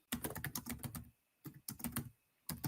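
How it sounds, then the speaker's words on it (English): Computer keyboard typing comes in quick bursts of crisp, close clicks, separated by two short pauses, with no talking. "If I start typing,"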